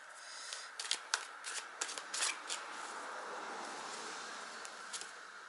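Tarot cards shuffled close by, with soft riffling and quick slaps in the first half, then a quieter sliding rustle, and no talking.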